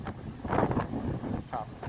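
Strong wind buffets the microphone at a sea coast near a mangrove area, with gusty low rumbling surges rising and falling throughout, partly masking what may be faint voices underneath.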